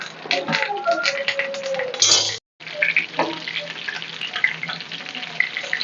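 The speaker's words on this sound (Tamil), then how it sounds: "இந்த சங்கரா மீன் மாத்திரம் தேங்காய் எண்ணெயில் போட்டு அப்படி கொஞ்சம் கருவேப்பிலையை போட்டு அப்படி வறுங்க" Sankara fish frying in coconut oil with curry leaves, a close, busy crackling sizzle that runs almost throughout, broken by one brief gap.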